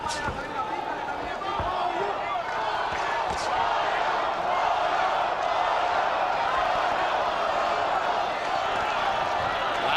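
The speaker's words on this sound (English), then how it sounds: "American segment of the crowd chanting Goyo, Goyo, Goyo" Dense arena crowd noise at a Floyd Mayweather Jr. versus Gregorio Vargas boxing fight, a steady roar of fans chanting Goyo for Vargas, loud and sustained throughout with no clear individual voices.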